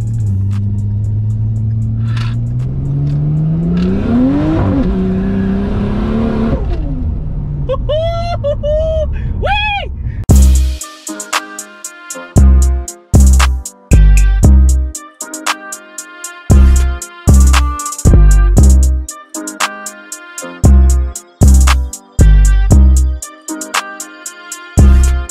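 Car engine revving and accelerating hard on a road, a rising roar that climbs in pitch over several seconds, followed by loud rhythmic thumping bass music with someone talking over the drive.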